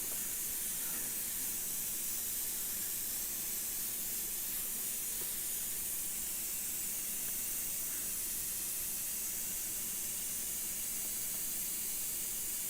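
An airbrush blows a steady stream of air to dry saturated paint, a constant soft hiss held evenly throughout at low level.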